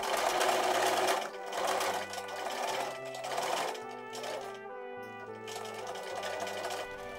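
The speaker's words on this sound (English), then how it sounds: "I could then sew along those lines through various layers and pocket sections to create the compartments." A sewing machine stitches through several layers of scrap fabric for a utility pocket, its close, rhythmic whirring running in short bursts with small pauses between passes.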